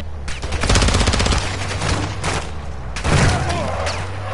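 Rapid automatic gunfire in Call of Duty during a stronghold contract raid, loud and sustained bursts with a pause before another heavy volley, low engine-like hum underneath.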